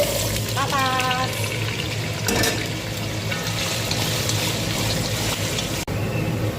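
Potato pieces fry in hot oil in a home kitchen, a steady loud sizzle and bubbling throughout with a brief clink, talk in the background.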